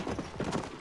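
Horse hooves clip-clop in quick rhythmic beats as a horse arrives in the video game Red Dead Redemption, close and clear for under a second.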